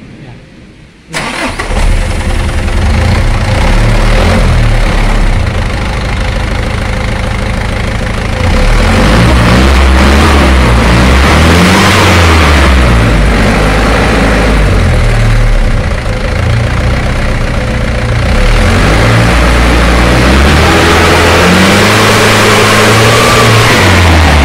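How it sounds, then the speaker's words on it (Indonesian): A Mitsubishi Colt Diesel Canter truck diesel engine cranks and catches after a stop-cam adjustment on its injection pump, then idles loudly and rises and falls through several revs close by. "Dan sekarang mesin akan dicoba dihidupkan."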